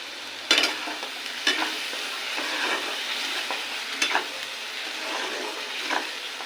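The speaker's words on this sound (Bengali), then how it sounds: "এটাকে একটু কষিয়ে নেব।" Spiced eggplant sautéed in a pan and stirred, with a soft steady sizzle broken by a few sharp scrapes of the spoon against the pan, near and alone with no voices.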